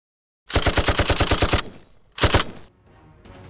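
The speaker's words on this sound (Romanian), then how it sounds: "toată noaptea se aud numai împușcături" Automatic gunfire during the December 1989 revolution street fighting in Timișoara, Romania: a loud, rapid burst of about a dozen evenly spaced shots, then a short second burst, each followed by a fading echo.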